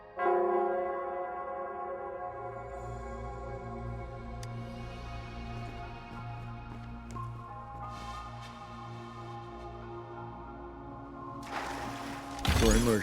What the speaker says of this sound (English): It's the bell. They must be showing the way for us.